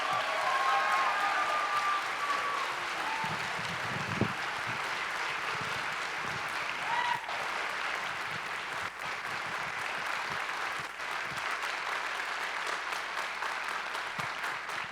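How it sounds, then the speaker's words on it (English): A high school spring band concert audience claps in a sustained, even round of applause that fills the auditorium, with no talking over it. "So give them all, please, a huge round of applause"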